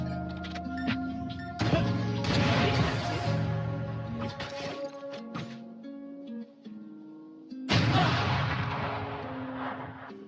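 Raze satchel explosions in Valorant, heavy booming blasts with gunfire and game effects, loud and close, a second big blast near the end, no talk over them.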